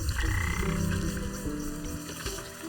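Frog croaking in the video game Wytchwood, a steady run of low, throaty croaks that carries on without talk for nearly three seconds over a constant background hum.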